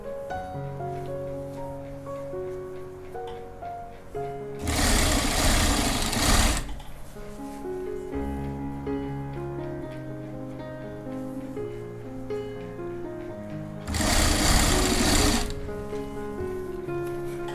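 A sewing machine stitches a jacket (koti) for a frock or kurti in steady bursts, its quiet mechanical whir broken by two louder, harsher runs of rapid stitching.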